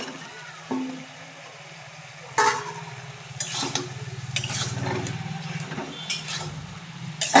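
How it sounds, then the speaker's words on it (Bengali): Fried vegetables, which the title says are eggplant and potato, tipped into a pan of onion and tomato masala for a rohu fish curry and stirred, giving scattered scrapes, clatters and knocks over a steady low background hum. "এবার আমি উপর দিয়ে সবজিগুলোকে দিয়ে দেবো, ভেজে রাখা সবজিগুলো।"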